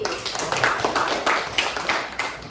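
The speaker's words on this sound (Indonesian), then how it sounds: "beri tepuk tangan kepada Arsi." Classroom students clap for a classmate's correct answer in a school lesson on Islamic prayer, a brief scattered round of hand claps, moderately close and fairly light.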